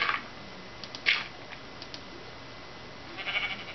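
Faint, brief sheep bleats from a Minecraft game come at the start and again near the end, with sparse game sounds between them and no talking.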